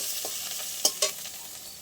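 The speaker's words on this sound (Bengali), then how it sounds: "পেঁয়াজটা ভালো করে ভেজে নিয়েছি এবার আমি এর মধ্যে কিছু মশলা দিয়ে দেবো" Fried onion and spices sizzle in a pan for a kalbos fish curry, a steady moderate hiss broken by two sharp scrapes of stirring near the middle, with no talking.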